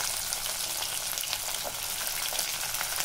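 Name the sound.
onion and garlic frying in oil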